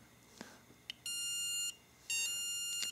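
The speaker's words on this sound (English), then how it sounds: "I can tap on this again to use the alarm on the beeper to make it sound" A small electronic key finder beeper sounds two bursts of high-pitched, rapid beeping, each lasting over half a second, preceded by a few soft taps.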